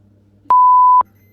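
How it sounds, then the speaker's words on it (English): A Milwaukee C12C battery charger gives a single steady half-second electronic beep over a faint low hum. "you can hear the beeps"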